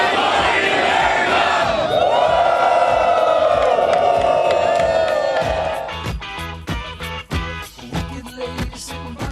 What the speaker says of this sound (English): Look at that crowd on the USS Bataan.